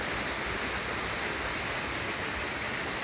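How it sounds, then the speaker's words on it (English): Waterfall tumbling into a hollow in a subtropical rainforest by South Kobble Creek, a steady broadband rushing of falling water, constant and moderately distant, with no voices. "there's the waterfall in the hollow"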